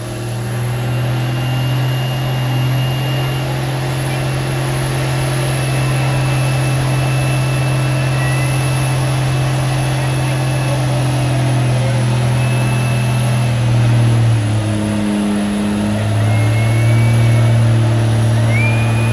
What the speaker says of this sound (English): So he's going to do a burnout here and head down the quarter mile.